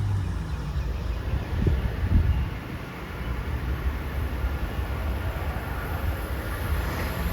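An Explorer train races through Tuggerah station at high speed, making a loud, continuous rumbling roar of wheels on rails that stays close and steady throughout.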